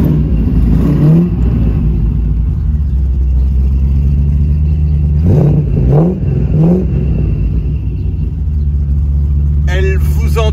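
A 1989 TVR 400 SE sports car idling loudly up close with a deep steady rumble, then three quick throttle blips around the middle, and a voice speaking briefly at the end.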